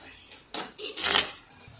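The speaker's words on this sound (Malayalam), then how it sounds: "നമുക്കിതിനെ നന്നായിട്ട് ഇളക്കി ഒന്ന് യോജിപ്പിച്ച് വഴറ്റിയെടുക്കണം" A metal spoon clinks and scrapes against a pan while stirring and sautéing spices with turmeric powder for a fish curry, giving a few close, sharp knocks with no talking.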